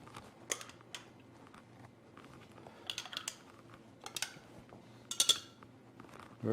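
A utensil stirs colorful water samples in drinking glasses, giving a scatter of light, irregular clinks and taps that come close together, fairly faint, with no talking.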